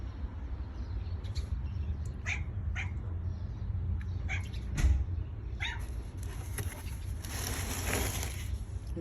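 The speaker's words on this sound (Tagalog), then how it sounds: "Oh, nag-iingay din ang pusa dito." A cat meows a few times over a low, rumbling background, with short scattered calls rising above the steady noise.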